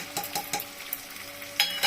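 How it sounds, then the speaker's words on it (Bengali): Salt, turmeric and Kashmiri chili powder are stirred into onions and peas in a pan for egg curry. The spoon makes a few quick scraping strokes over a faint sizzle. "দিয়ে একটু নাড়াচাড়া করবো।"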